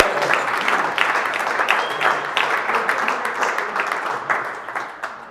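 Sustained applause from an audience at a company team awards meeting, dense clapping from many hands holding steady for several seconds before tapering slightly toward the end.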